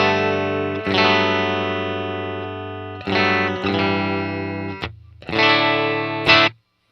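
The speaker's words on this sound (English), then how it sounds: "and then here's the sound of the deluxe." Electric guitar played through a ToneX One pedal on a Deluxe amp model, ringing sustained chords with a slightly driven, full tone, a few changes and a short gap before a final strum that cuts off abruptly.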